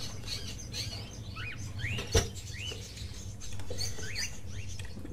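Chirping birds in an indoor bird room in the video game Fahrenheit, with repeated rising tweets and calls at moderate distance and a single sharp tap partway through.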